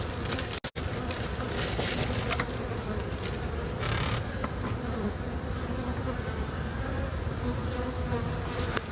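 Dense, steady swarm of honey bees droning at a hive built into house eaves, loud and close, continuous for the whole stretch apart from a split-second dropout near the start.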